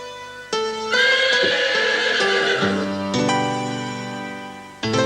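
A horse whinnies loudly and alone, a long harmonic neigh that rises, wavers and trails off, followed by a second shorter call near the end.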